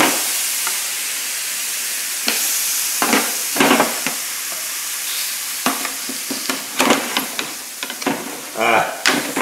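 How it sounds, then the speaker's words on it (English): Beef short ribs sizzling in a hot pan beneath a broiler flame, a bright steady hiss with intermittent crackles and spits rising and falling, heard alone without talk. "You can hear that sizzling."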